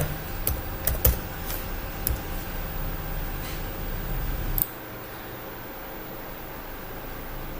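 Letters typed on a computer keyboard in short bursts of light clicking keystrokes, close and fairly quiet, stopping abruptly partway through and leaving faint background hiss.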